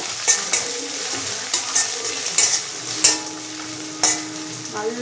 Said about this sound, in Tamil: எல்லாத்தையும் போட்டு இது பாருங்கள் ஒரு வதக்கணும்.